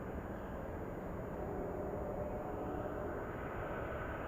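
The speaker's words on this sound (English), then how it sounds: "there you go. DC-3, that was pretty cool." A Douglas DC-3 propeller airliner at Anchorage airport in freezing weather gives off a steady broadband engine roar that holds level throughout, with no voices.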